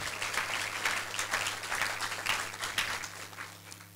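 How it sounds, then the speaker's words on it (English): A banquet crowd at a Rotary Club centennial awards dinner applauds a local banker, dense steady clapping from many people with a low hum beneath, holding at even loudness throughout. "Give him a round of applause."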